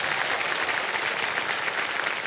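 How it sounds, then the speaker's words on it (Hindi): A studio audience on the television quiz show Kaun Banega Crorepati claps for a contestant's older brother. The applause is thick and continuous, with many hands clapping at once at a constant level throughout. "तालियां बज जाए इनके लिए"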